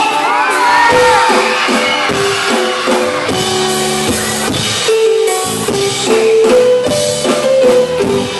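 Festival crowd at a town fiesta band event cheering and shouting loudly and continuously, with amplified music tones running underneath throughout.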